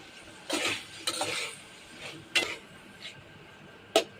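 Minced meat is stirred in a pan, with several sharp spatula scrapes and clinks spaced irregularly over a quiet, low sizzle. No one speaks.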